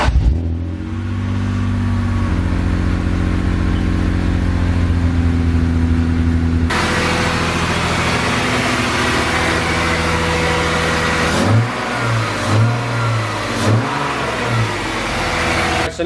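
A BMW M3 engine idles steadily while coolant is bled after a repair, then the revs jump and it blips several times with rising and falling throttle surges near the end.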